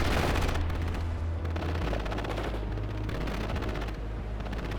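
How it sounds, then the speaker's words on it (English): Dense gunfire rattles through a World in Conflict battle, rapid bursts layered over a continuous low rumble of combat, loud and sustained from start to finish with no voices. "Returning fire."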